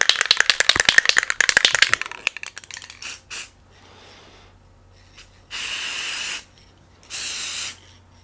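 Krylon spray paint applied as a third coat on a pinball backglass mirror: a rapid can-shaking rattle first, then short hissing bursts and two longer, close sprays.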